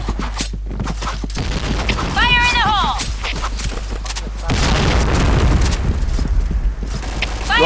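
Explosions and rapid gunfire in a Thai-played online shooter, dense booming blasts with mechanical clatter, loud and continuous, with a player's voice talking over the action.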